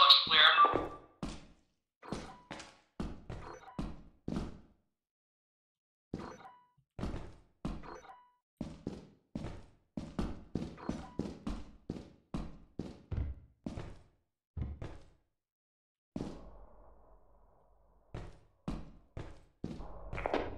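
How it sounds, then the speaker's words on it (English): Loud, heavy thumping footsteps in the horror video game Lethal Company, a series of sharp, close thuds in uneven bursts with short pauses between runs, no talking over them. "loud thumping footsteps, and I didn't know if that was, like, me or a thumper"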